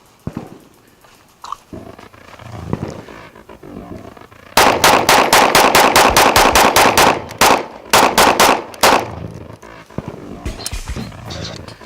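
A Smith and Wesson M&P 2.0 9mm pistol fired rapidly at a shooting range: a long, fast string of loud, sharp shots in a steady rhythm, with a few short pauses, then quieter handling afterwards.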